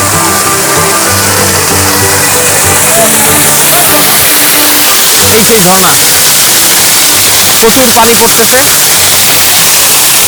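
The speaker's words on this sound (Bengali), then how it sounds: "সেই ঝর্ণা প্রচুর পানি পড়তেছে" A loud, continuous roar of an artificial waterfall crashing nearby at Himchari, Cox's Bazar, Bangladesh, with people talking faintly beneath the rush of water.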